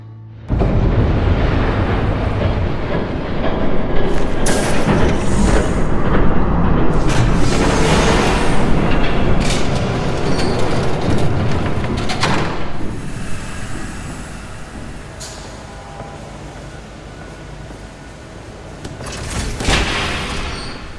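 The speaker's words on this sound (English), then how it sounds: "There's a train coming. Take cover." A train passes by in the Batman Telltale video game: a loud, sustained rumbling roar with clattering and metallic bangs that swells and persists for the whole stretch before easing slightly near the end.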